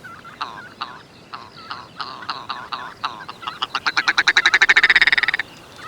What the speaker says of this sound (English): a wild bird for shooting, the red grouse